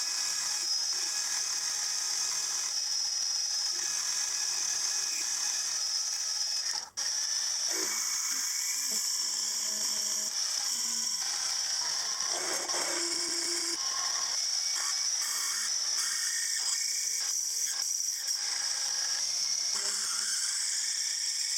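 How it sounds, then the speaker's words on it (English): Steady machining noise of a drill centre-drilling, drilling and reaming a hole in a metal casting, a continuous whine with grinding and ratcheting textures, close by and fairly loud, no speech. "I'll centre drill, then drill out to 1/64 under a ½ inch, and then finally ream the hole"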